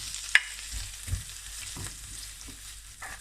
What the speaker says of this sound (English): Okay, so add some butter in the pan again. Gotta get our onions here.